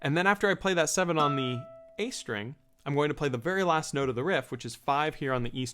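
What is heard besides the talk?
No everyday noises stand out.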